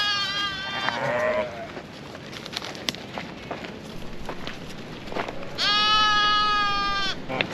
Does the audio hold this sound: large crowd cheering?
no